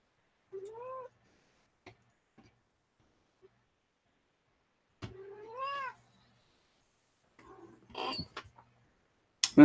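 A cat meows several times in a quiet room, with clear rising-falling cries spaced apart and a louder burst near the end.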